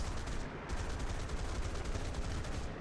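Rapid bursts of machine-gun fire from bomber gunners in an aerial combat video game, a dense continuous rattle of shots close and loud.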